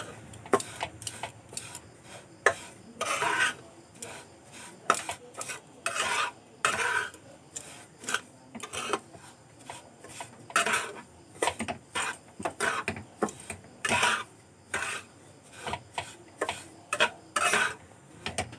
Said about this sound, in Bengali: সব কিছু দিয়ে আমি খুব ভালো করে মিশিয়ে নেব।